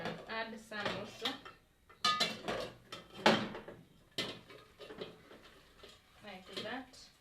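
Metal utensil scraping and clinking against a pot while melted sugar is stirred over very low heat for homemade popcorn, in irregular close bursts mixed with a voice talking throughout.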